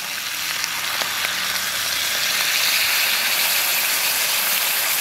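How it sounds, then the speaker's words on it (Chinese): Boiling water poured into a pot of pork ribs with soybean paste and oyster sauce gives a loud, steady rushing hiss and sizzle, close and continuous, with no voices. "倒入开水。"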